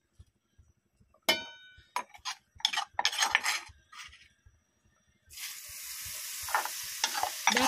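Garlic frying in a pan for mung bean curry, scraped and stirred with a utensil in several sharp bursts, then settling into a steady, close hiss of sizzling oil for the last few seconds.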